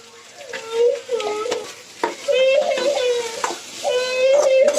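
Potatoes boiled with salt are stirred in a pan, a steady scraping sizzle running throughout beneath a voice talking over it.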